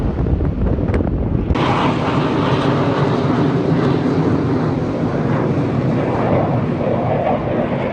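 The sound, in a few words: military jets flying near Naval Air Station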